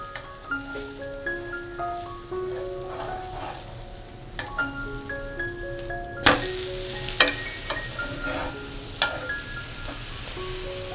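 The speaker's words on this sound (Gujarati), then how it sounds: "અને એક સાઈડ પરથી પુડલું આ રીતના ક્રિસ્પી બ્રાઉન સરસ શેકાઈ જાય ત્યારબાદ હળવા હાથે આપણે તેને ટર્ન કરી દઈશું" Bottle gourd besan chilla (pudla) frying in a pan with a steady crisp sizzle throughout, popping bursts and crackles rising midway, while soft melodic background music plays underneath.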